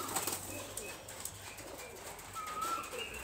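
A female Machranga-baji pigeon coos softly in a loft, with faint, low murmuring calls and some light rustling. The sound stays quiet and close.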